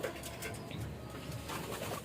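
Racing pigeons in a loft coo softly in low repeated murmurs, faint and close, over a quiet background with no voices.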